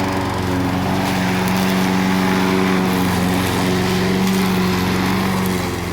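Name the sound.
2003 Craftsman self-propelled lawn mower engine running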